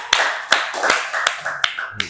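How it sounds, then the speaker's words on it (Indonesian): A small group claps hands at a talk show interview, quick uneven claps with a few sharp taps, fairly near and modest in size, under light background chatter. "Kasih tepuk tangan dong."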